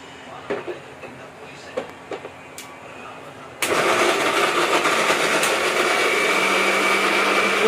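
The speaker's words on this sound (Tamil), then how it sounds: "இப்போ வெங்காயத்தை பேஸ்ட் பண்ணிக்கணும்" A mixer grinder grinds onion into paste, starting abruptly with a loud, steady, close whirring roar that continues unbroken after a few quiet clicks and handling knocks.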